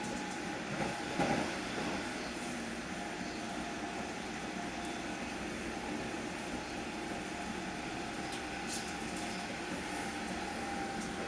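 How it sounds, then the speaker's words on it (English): A London Underground Metropolitan line train to Uxbridge passes near Neasden and Dollis Hill, a faint, steady rail rumble and hum that holds for over ten seconds. "That was either an all stations or semi-fast Metropolitan line train to Uxbridge"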